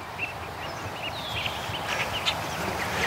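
Geese moving among ducklings outdoors: soft, scattered peeps and quacks, faint and intermittent over a steady wash of background noise, with no talk.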